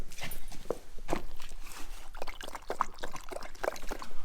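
Water is poured for a dog outdoors, a continuous trickling, splashing stream with irregular small knocks and thuds, moderately quiet, with no talking.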